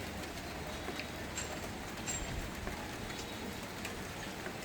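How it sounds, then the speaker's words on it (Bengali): Steady rain falls across an open neighbourhood area where pigeons are being flown, a dense, even hiss of drops with no pauses, heard alone. "পুরো এলাকা বৃষ্টিতে ভরে রয়েছে।"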